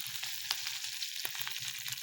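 Garlic and green chillies sizzle in hot oil for a tempering, a quiet, steady frying hiss with a few small pops and crackles.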